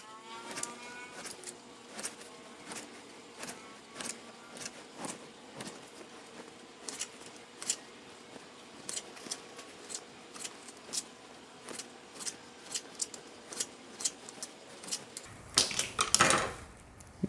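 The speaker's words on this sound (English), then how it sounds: "We're going to use a straight edge knife. You'll see how it's much faster." A straight edge knife slices tomatoes in half on a cutting board, a steady run of crisp taps and cuts repeating for many seconds, closer and busier near the end.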